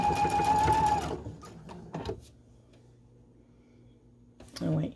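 Sewing machine stitching fabric segments together for a quilt block, with a fast buzzing run for about a second, then short stitch bursts and quiet pauses, and a brief final burst at the end.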